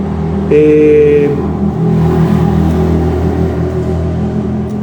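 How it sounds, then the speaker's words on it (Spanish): A motorcycle rumbles past in the background with a brief horn-like tone early on, then a steady engine drone fading away. "estaba esperando que pase la moto, que hace bastante ruido"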